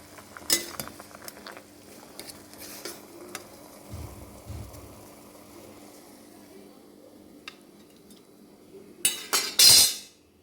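Metal utensils clink and scrape against a pot as boiled mutton brain is scooped out of hot water, a few scattered light taps early and a sharper, louder cluster of clatter near the end, close by, with no voices.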